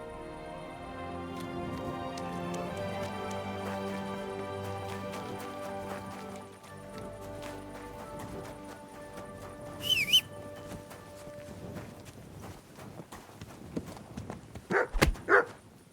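Horse hooves clip-clop under a music score, the steady beats growing more pronounced toward the end with a few sharper thumps and brief louder accents.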